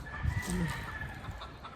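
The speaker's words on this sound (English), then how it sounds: "That chicken's not too happy we fenced off that area." A farm chicken, unsettled by a newly fenced-off area, gives a few soft low clucks at a distance, faint over outdoor wind and ambient noise.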